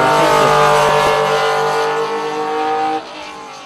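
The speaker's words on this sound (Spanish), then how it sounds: "Esa frenada siempre delicada, máximo cuando entra en acción" A historic race car at the Jerez circuit brakes hard into a corner, its loud engine note holding strong and close with sustained harmonic tones, then dropping away abruptly near the end as it slows.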